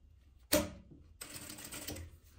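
A sewing machine stitches along a zipper. A sharp mechanical clack is followed by a short burst of steady, close-up running noise.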